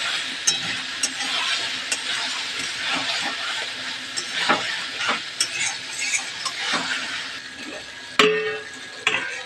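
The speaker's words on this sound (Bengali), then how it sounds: "আলুগুলোকেও ভালো করে একটু কষিয়ে নেব" Potatoes are stirred and sautéed in a masala with tomato paste, a steady low sizzle broken by repeated scraping strokes of a spoon against the pan, close by and with no talking.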